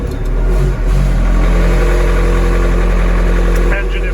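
Glow-plug engine of a radio-controlled truck, prepared for a snow track, starting from cold and running loud and close with a steady drone, briefly dipping then swelling as it revs.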